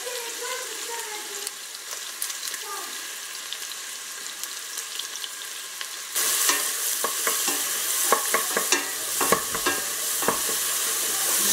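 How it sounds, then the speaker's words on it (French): Onion and garlic frying in a pan at home, with a constant sizzle under scraping and stirring. The frying grows noticeably louder and brighter halfway through, with sharp clicks and scrapes of a utensil. "je vais ajouter un oignon que je vais faire revenir avec l'ail"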